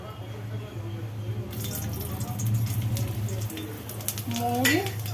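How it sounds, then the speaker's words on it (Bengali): Kalai dal being tempered with fennel seeds, dry red chili and bay leaf in hot oil: a steady sizzle swells suddenly and stays loud and close, with a low hum underneath and a brief voice near the end. "মৌরি শুকনো লঙ্কা আর তেজপাতা কলায়ের ডাল সাঁতলানো হচ্ছে"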